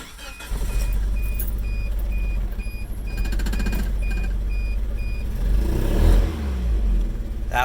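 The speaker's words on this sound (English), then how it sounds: "It really does not want to rev." A Suzuki Sidekick with a swapped 16-valve engine and reconnected exhaust drones at full throttle, its note rising only slowly and sluggishly, loud and close, with a faint repeating beep over it.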